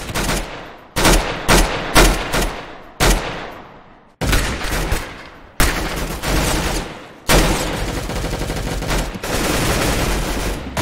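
Gunfire from the Roblox game Arsenal: several sharp, loud bursts in quick succession, then a denser, sustained stretch of rapid shooting with no voices.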